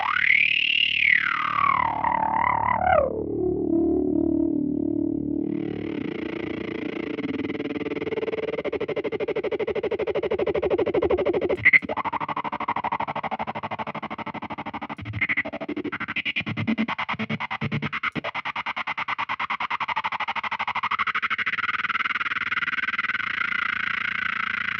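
Electric guitar through an Empress Tremolo 2 pedal in down mode: a swooping pitch-bent note dropping low, then warbling, pulsing modulated tones with fast choppy flutter, loud and close, no voices.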